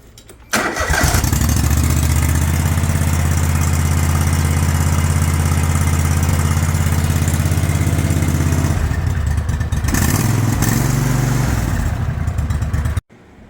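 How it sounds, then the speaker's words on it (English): A lawn mower engine with a newly replaced PTO clutch starts and runs loud and steady at close range, with a brief dip in speed partway through before it cuts off abruptly. "let's see how this engine sounds"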